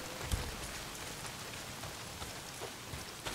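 Rain pouring down in the video game Days Gone, a steady heavy hiss of downpour with a few scattered thuds and drips, no voices over it.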